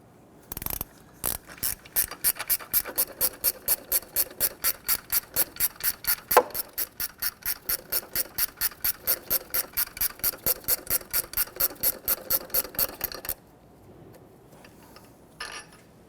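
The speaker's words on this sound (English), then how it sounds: "loosen and remove this upper bolt, 14mm" A ratchet wrench loosens a 14mm upper bolt on an engine bracket of a 1992-1996 Toyota Camry 2.2L four-cylinder, a steady run of quick, close clicks lasting several seconds before it stops.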